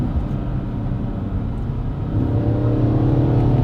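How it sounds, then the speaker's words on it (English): An 800 hp twin-turbo V8 swapped into a four-wheel-drive BMW M135i with a thin carbon hood drones loudly from inside the cabin, the engine note steady and then rising in pitch and volume as the car accelerates. "you hear the engine noise coming through more because the carbon is thinner"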